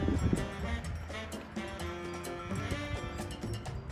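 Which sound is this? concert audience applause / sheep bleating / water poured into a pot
sheep bleating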